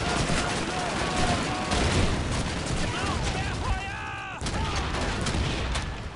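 Relentless gunfire fills the Stalingrad fortress battle in the video game Call of Duty 2: rapid, overlapping shots and bursts with no break, loud and dense throughout.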